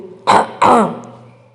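Two rough throat-clearing bursts close together, the second longer and trailing off, heard alone in a quiet space.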